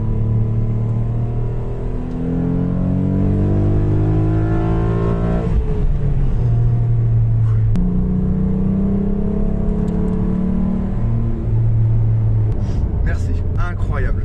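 A Renault Clio V6 engine revs up with a rising, sharply pitched tone, then settles into loud, steady running with a few more swells in pitch, heard close and continuous throughout.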